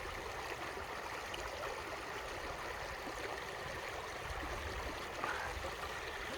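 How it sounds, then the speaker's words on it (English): Steady rushing of a flowing stream, constant and moderately close, with a continuous watery wash and no voices. "You can hear the stream behind me."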